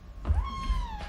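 A small kitten at an SPCA shelter gives one close, clear meow that rises and then slowly falls, heard on its own.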